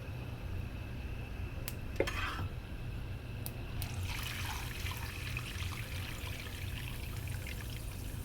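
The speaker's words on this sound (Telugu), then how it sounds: "పల్లీలు కూడా మంచి ఫ్రై అయినాయండి." Peanuts frying in a pan for a flattened-rice (atukula) mixture, a steady low crackling hiss throughout with a few sharp clinks and a brief burst of brighter sizzle midway.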